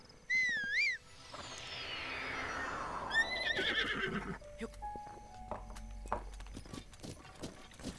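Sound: horse neighing and galloping in video game Zelda Breath of the Wild

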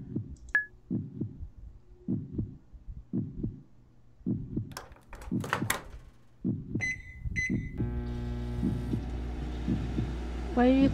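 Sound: microwave running in a video game

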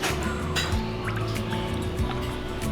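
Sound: water poured into pot

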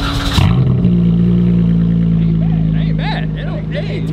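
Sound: Dodge Hellcat car engine running

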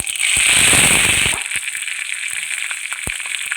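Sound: cumin and curry leaves crackling in hot oil

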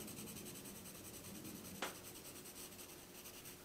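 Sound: pencil graphite shading being smoothed on paper

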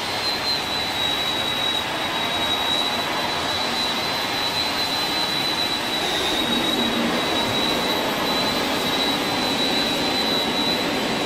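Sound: airliner jet engines while taxiing in Flight Simulator X, a video game

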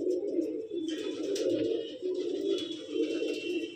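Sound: pigeons cooing

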